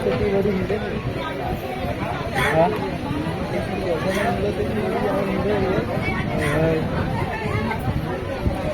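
A busy outdoor crowd at a ferry jetty during the Mahashivratri fair at Harihareshwar, Konkan, with overlapping chatter and general hubbub, voices mixing at a steady level throughout.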